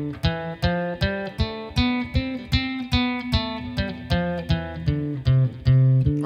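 A guitar plays a major scale starting on the root, about a dozen clean plucked notes stepping steadily one after another. Each note rings clearly and alone at a moderate level.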